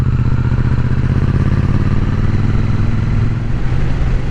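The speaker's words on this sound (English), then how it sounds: "Out here on the Triumph Bonneville T100." A Triumph Bonneville T100 motorcycle out on a Sunday afternoon ride, its engine a steady loud low rumble with constant wind and road noise throughout, heard close from the rider's position.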